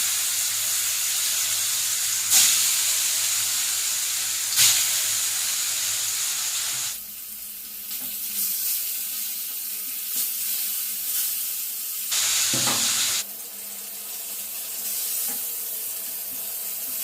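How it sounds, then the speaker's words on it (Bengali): Silver carp pieces fry in hot white oil in a kadai, giving a loud, continuous sizzling hiss that surges and shifts as each piece goes in. "এবার আমি মাছগুলো এক এক করে কড়াতে দিয়ে দেব।"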